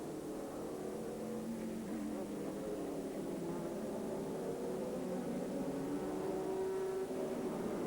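Corvette GTS-class race cars at a 2001 American Le Mans Series race drone steadily in the distance, a continuous faint engine hum with gently shifting pitch as they pass.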